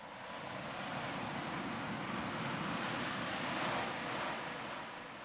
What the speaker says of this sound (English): So it's a wave sound, and we're bringing just a little bit of that